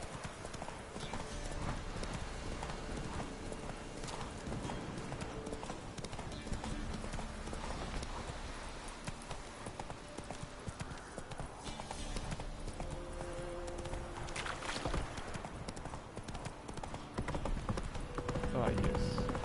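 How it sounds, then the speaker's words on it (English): Horse hooves clip-clop in a steady trotting rhythm as Geralt rides in The Witcher 3, with the game's ambient sound beneath and a voice talking over parts of it. "Ah yes, I can ride the horse."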